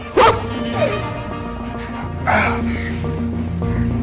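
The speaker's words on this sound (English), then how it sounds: "Your fucking dog can't even follow command." A dog in a film scene gives a sharp bark near the start, followed by a softer yip and a whimper-like cry, while a low steady musical score plays underneath.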